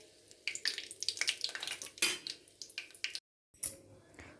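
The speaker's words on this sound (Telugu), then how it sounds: "ఒక 4 యాలకులు, లవంగం, దాల్చిన చెక్క, కొంచెం బిర్యానీ ఆకు వేసుకొని కొంచెం ఇవి వేగనివ్వాలి" Whole spices, namely four cardamom pods, cloves, cinnamon and bay leaf, fry in hot oil in a pan for a veg biryani. Light sizzling and sputtering come with close clinks and scrapes of a utensil, briefly cut to silence partway through.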